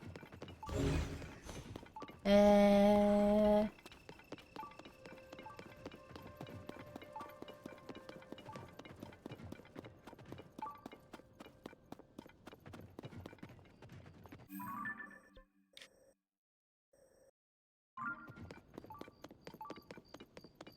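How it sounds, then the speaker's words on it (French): Horses' hooves clip-clop in The Legend of Zelda: Tears of the Kingdom, a steady run of even hoof beats with a brief loud game jingle near the start and a short quiet gap before the steps resume. "Là, il y a des chevaux."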